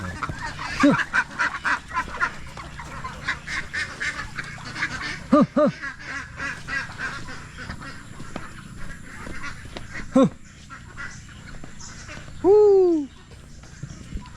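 Ducks quacking outdoors while being herded, with repeated honking calls scattered through the scene and a loud, clear quack near the end over steady background noise.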